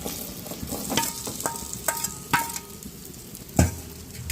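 Potatoes fry in a pan with a soft, steady sizzle, while a utensil stirs them in light scraping strokes and one louder knock near the end.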